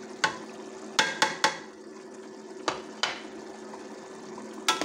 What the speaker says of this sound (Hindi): दो से तीन मिनट इसको अच्छी तरह मसाले के साथ फ्राई करेंगे